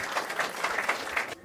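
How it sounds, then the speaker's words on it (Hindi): Applause from an audience welcoming a poet at a shayari show, a steady wash of clapping that fills the clip and cuts off abruptly near the end. "राहुल भाई एक बार जोरदार तालियों से स्वागत कीजिएगा राहुल भाई का"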